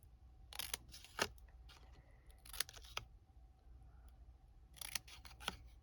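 Scissors snip paper corner pieces in short, crisp bursts, several quick cuts in clusters with pauses between, close and clear in a quiet room.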